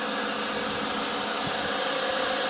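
Lincoln Town Car engine running steadily at idle, a continuous even rumble with broadband hiss, close and moderately loud, with no voices.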